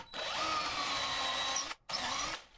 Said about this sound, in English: So to insert the pin back in, I need to drill out a new hole.